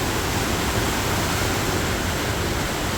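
Heavy river water rushing beneath Panposh bridge, a loud, dense, unbroken roar of flowing water filling the whole span with no voices.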